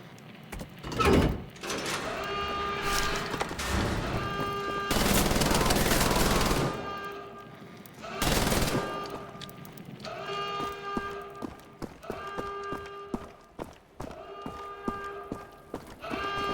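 Video game gunfire with bursts of automatic shooting, two long loud roaring blasts and then a run of quick repeated shots, all close and loud.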